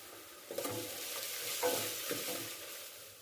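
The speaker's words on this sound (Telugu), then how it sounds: "తర్వాత అల్లం వెల్లుల్లి పేస్ట్ వేసుకుని వేయించుకోవాలి." Ginger garlic paste fries in a pan with a soft continuous sizzle, broken by a few brief stirring scrapes; quiet and close, with no talking.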